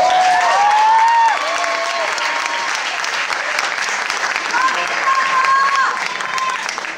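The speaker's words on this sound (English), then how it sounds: "Give them a round of applause." An audience at a high school talent show applauds loudly and continuously after a performance, dense clapping with crowd noise while a voice speaks over it.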